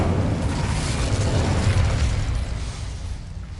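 An Incendio fire spell cast in Hogwarts Legacy gives a sustained, rushing whoosh, like a burst of flame with a booming low rumble, loud and steady before easing off slightly.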